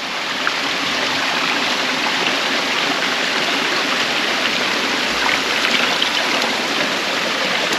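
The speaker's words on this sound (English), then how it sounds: "This is cool, another waterfall." Waterfall on a bush walking track at Brunner's Taylor Track, a steady, full rushing of falling water, constant and fairly close, with no talk over it.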